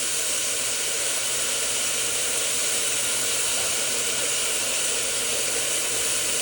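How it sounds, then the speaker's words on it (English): Meat for macarona bil-bechamel searing in a hot pan, a loud, steady, close sizzle and hiss that continues without a break. "Press down on that meat, make sure it gets a good sear."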